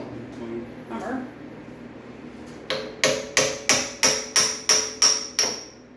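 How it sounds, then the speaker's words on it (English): A hammer strikes metal in eight sharp, evenly spaced blows while the engine mounts and transmission bolts are removed from a Triumph TR6, following a man's brief speech at the start. "Hammer."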